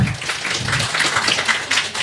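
Audience at a lively debate event clapping in a sustained, dense round of applause at moderate distance, steady for a couple of seconds.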